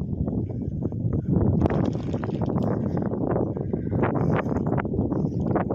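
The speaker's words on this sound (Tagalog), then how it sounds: "Kaya lakas ng hangin." Strong wind roars and buffets steadily outdoors in Quibal, with gusty rumbling bursts and a constant low rush, loud and close, no voices.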